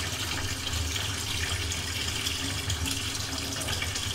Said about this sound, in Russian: но вода все-таки уходит с опозданием